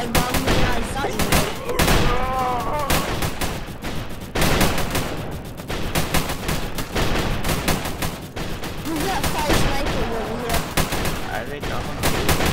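Rapid, continuous minigun fire from a tower in the Roblox game Tower Battles, a loud dense rattle running throughout while players talk over it.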